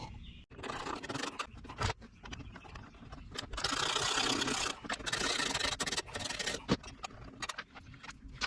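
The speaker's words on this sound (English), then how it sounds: "You're going to need an 8mm socket wrench to remove this, and you just remove 1, 2, 3 bolts." An 8mm socket wrench backs out the top cover bolts on a Bolens push lawnmower carburetor, giving close, irregular ratcheting clicks, metallic scrapes and rubbing in bursts with short pauses between.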